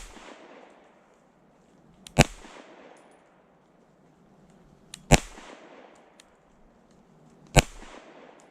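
Three sharp, loud gunshots from a CZ P-10C Ported pistol fired outdoors in the cold, spaced a few seconds apart, each with a short fading tail and quiet background between shots.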